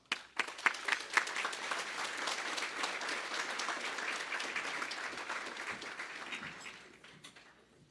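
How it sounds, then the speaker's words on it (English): Audience at an annual general meeting applauds an award recipient, with a few sharp early claps swelling into full, even applause that holds steady before tapering off near the end. "Round of applause."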